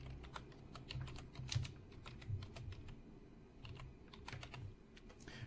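Steady, fairly quiet keyboard typing, an irregular run of light key clicks continuing throughout over a low background hum, with no voices.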